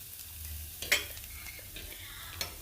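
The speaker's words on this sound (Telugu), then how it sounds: "ఇప్పుడు అదే ఆయిల్లో మనం చేసుకున్న ఎల్లిపాయ కారం ముద్ద వేసి దాన్ని కొంచెం సేపు ఆయిల్లో ఫ్రై చేయండి." Garlic and chili paste frying in oil for an egg garlic fry gives a faint, steady sizzle, with a sharp scrape of stirring near the start and a small clink near the end.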